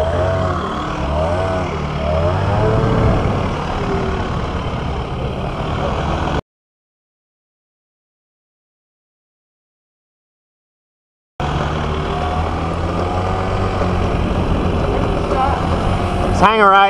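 A Kymco Racing 150 scooter carrying two grown men and two dogs drones steadily with loud engine and wind noise, a gap of silence in the middle, with people talking over the ride.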